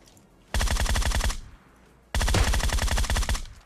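Two long automatic bursts of rapid gunfire from a Groza rifle in PUBG Mobile crack out loud and close, separated by a short pause, with no talk.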